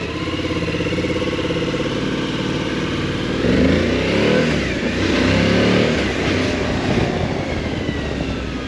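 A Suzuki V-Strom 1050 DE motorcycle engine revs hard and accelerates on a test ride, loud and close, its roar rising and holding steady with no talking.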